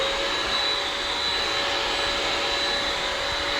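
A carpet cleaner on its rug setting roars steadily and loudly at close range, a constant broadband whine with a thin high tone running through it, with no talking.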